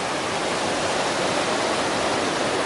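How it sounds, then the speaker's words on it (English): A big mountain stream on the Pacific Crest Trail rushes steadily and loudly, a dense, continuous roar of flowing water with no pauses. "Ooh, this is a big stream."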